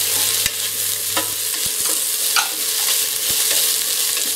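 Onion, potato and carrot sauté in a pan for a Kerala chicken stew, giving a loud, steady hissing sizzle with occasional soft knocks and scrapes of stirring, heard close and alone.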